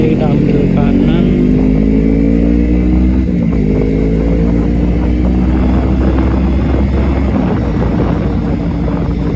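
A motorcycle ridden on a road gives a loud, continuous engine drone whose pitch climbs and falls as it revs, with constant wind rush over it.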